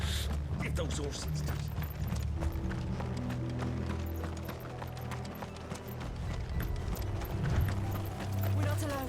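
Horses galloping in the video game Final Fantasy 16, a steady run of hoof clip-clops with mechanical rattling over a busy game soundscape, with voices talking at points.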